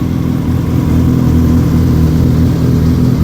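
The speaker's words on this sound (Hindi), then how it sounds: "ये मोटरसाइकिल स्टार्ट हो गया है" A Suzuki B-King 1300 motorcycle engine idles steadily just after starting, its deep, even throb loud and close with no voices.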